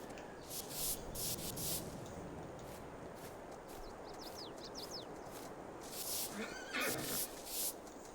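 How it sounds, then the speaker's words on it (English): Horses being groomed in Farming Simulator 22 give repeated whinnies over a steady brushing and rubbing texture, quiet and close, with a few soft hoof knocks. "So now all we need to do is just clean the horses up."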